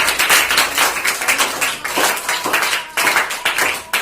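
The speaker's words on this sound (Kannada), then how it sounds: "ಜೋರಾಗಿ ಚಪ್ಪಾಳೆ ಬರ್ಲಿ" Loud applause from a group, dense and steady clapping with rhythmic surges that fills the whole moment, close and bright, with no talking over it.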